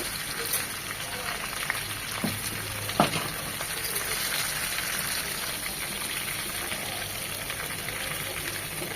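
Barbecue chicken pieces frying in oil in a covered pan, a steady close crackling sizzle with a few sharp pops, continuous throughout and heard alone without talk.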